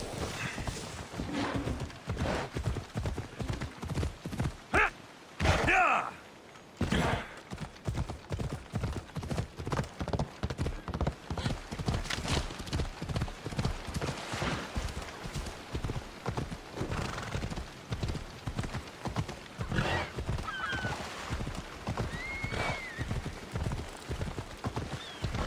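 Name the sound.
horse clip-clopping after being urged on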